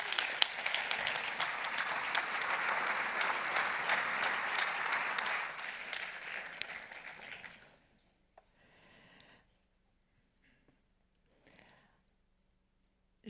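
Audience applause at an award ceremony, a broad wash of clapping for several seconds that fades out, leaving near silence with a few faint sounds.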